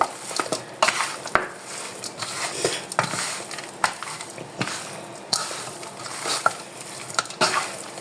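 Meat being worked into a marinade in a bowl, with soft wet stirring and scattered sharp clinks of a utensil against the dish, fairly quiet and close, no voices.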